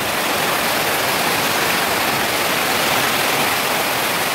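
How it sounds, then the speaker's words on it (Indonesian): A steady, dense hiss of heavy downpour fills the whole clip without a break, loud and close. "dan hujan keras"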